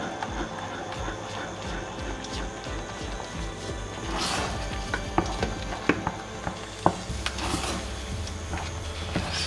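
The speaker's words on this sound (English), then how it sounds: "Just keep stirring and doing your thing." A pot of thickening millet fufu being stirred, with dull scraping and soft thuds of the spoon against the pot, plus a few sharper knocks, steady and close with no talking.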